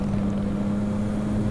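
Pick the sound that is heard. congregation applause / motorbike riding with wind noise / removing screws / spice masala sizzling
motorbike riding with wind noise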